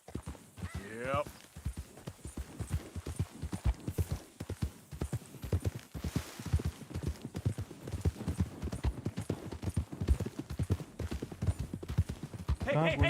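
In the Red Dead Redemption 2 video game, horse hooves clip-clop in a quick, steady rhythm throughout, with brief whinnies near the start and end and speech now and then over the hoofbeats.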